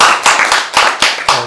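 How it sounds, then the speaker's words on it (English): A handful of committee members at a water quality management meeting clap together in a few sharp, distinct bursts, close and loud, with a voice briefly underneath. "how about at least a round of applause?"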